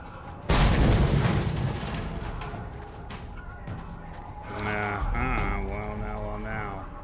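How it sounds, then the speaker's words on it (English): In the video game Mad Max, an explosion blows open a gate with a single sudden loud blast, followed by a rumbling decay and then quieter tonal mechanical sounds. "Explosion required to get into the gate."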